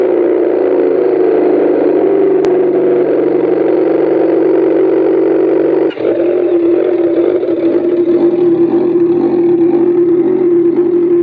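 A Camaro 2.0 four-cylinder engine runs at a high idle after a cold start, giving a loud, steady drone that breaks briefly about halfway through and then settles into a slightly different tone.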